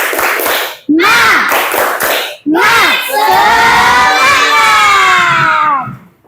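A class of schoolchildren chant and shout together in a spirit clap led by their teacher, loud and close, in short bursts followed by one long drawn-out cheer.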